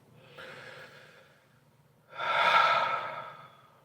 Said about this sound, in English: I gotta take some deep breaths.